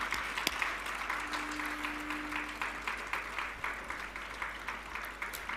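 A church congregation claps together in praise of God, producing steady rhythmic applause that carries on for several seconds at moderate volume in a hall.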